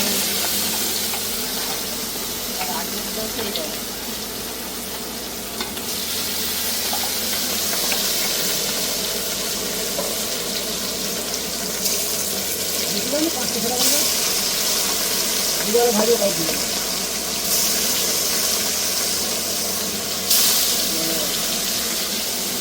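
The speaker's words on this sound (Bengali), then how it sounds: "এটা সোয়াবিনটা ভাজা হচ্ছে।" Soybean chunks fry in hot oil while cooking outdoors at a neighbourhood picnic: a steady, loud broadband hiss and sizzle runs throughout, with people talking over it.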